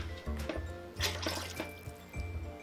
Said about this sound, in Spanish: le voy a agregar otra taza de agua.